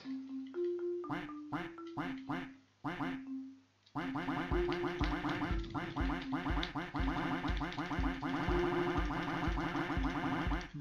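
Repeated cartoonish duck quacks from the video game Duck Simulator, first a few spaced squawks, then a dense, rapid, continuous barrage of overlapping quacks at steady loudness.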